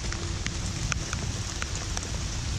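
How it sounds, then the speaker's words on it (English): Steady rain hisses all around, with scattered drops ticking and pattering close by against surfaces. "It's raining at Barra's den here."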